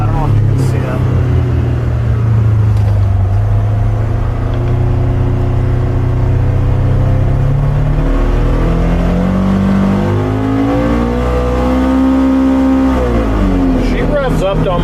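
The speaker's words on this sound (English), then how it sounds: "I want to see how far this engine revs up" Engine of a Polaris Xpedition ADV 5 Northstar side-by-side revving in comfort mode, a loud continuous drone that climbs steadily in pitch toward high RPM, then drops and rises again near the end.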